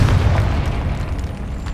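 A Confringo blasting spell explodes in the Hogwarts Legacy video game, a loud, dense booming blast that fills the whole moment and rumbles on without a break.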